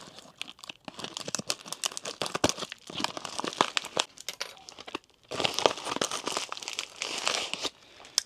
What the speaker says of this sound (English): I got my little scissors, so we about to cut this open and unbox it together.